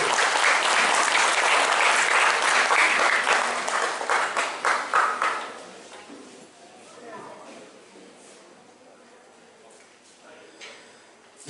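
Loud, dense applause from an audience at an award ceremony and college launch event in a banquet hall, fading after about five seconds into scattered claps and quiet room noise.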